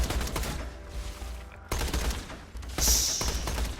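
Gunfire from the video game Borderlands comes as dense bursts of rapid shots and thumps, loud and continuous, broken by a brief gap and ending with a sharper crackling burst.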